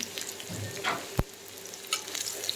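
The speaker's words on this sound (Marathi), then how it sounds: "2 मिनिट तेलामध्ये परतून घ्यायचं" Thickly cut onion sautés in hot oil after cumin seeds, a close, steady sizzle with stirring scrapes and one sharp knock of a utensil against the pan.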